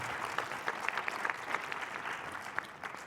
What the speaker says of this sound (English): let's give a round of applause for Amir, everyone.